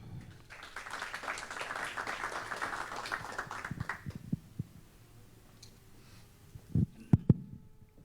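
An audience applauds a speaker being introduced at a public health panel, a burst of clapping that swells for about four seconds then thins into scattered claps and a few louder knocks near the end.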